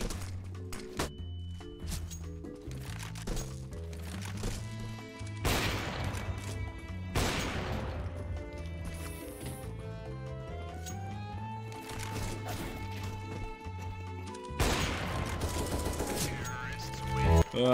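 Gunfire in a shooter video game: several sharp, loud shots in separate bursts over continuous background game sound and music, spaced a few seconds apart.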